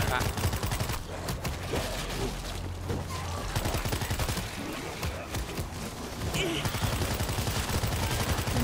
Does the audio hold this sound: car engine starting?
no